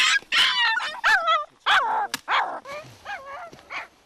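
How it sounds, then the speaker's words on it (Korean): A frightened feral puppy, born wild on a mountainside, yelps and cries loudly in a rapid string of high, wavering whimpers and shrill barks, close and alone. "겁에 질린 새끼는 세상에 태어나 가장 세차게 울부짖습니다"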